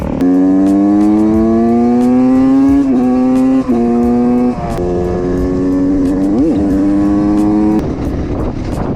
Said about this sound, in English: We got Lucas there in the back on the Kawasaki.